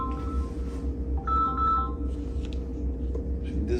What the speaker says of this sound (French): j'ai oublié d'éteindre le son de mon téléphone